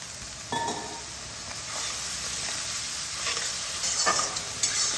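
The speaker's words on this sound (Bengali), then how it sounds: "এটাকে ভালোভাবে কষিয়ে নেব অল্প একটু জল দিয়ে এটাকে কষিয়ে নেবো" Marinated chicken with spices sautéing in a pan for poppy-seed chicken, a steady close sizzle with occasional stirring scrapes and clinks, no talking.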